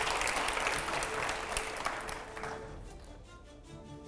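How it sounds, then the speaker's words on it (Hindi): Loud applause from a studio audience at a televised Hindi panel show, dense and steady clapping that fades slightly toward the end, heard alone without talk. "जोरदार तालियां हो पहले अगले सवाल से पहले"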